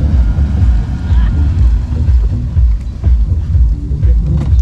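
A boat engine rumbles steadily over wind buffeting the microphone, with water churning close by throughout, at sea off Ölüdeniz, Turkey.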